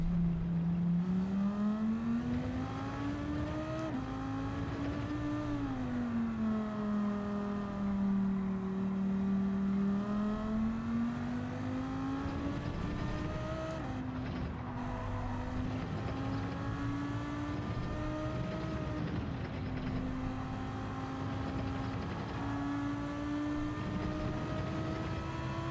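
A Lamborghini race car engine in Gran Turismo 7 drones loudly and steadily throughout, its pitch rising and falling with gear changes and throttle as the car laps the track, with no voices over it.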